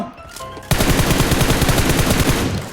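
Rapid automatic gunfire in PUBG Mobile, a loud close burst of evenly spaced shots that starts abruptly and runs for about two seconds, with no talking.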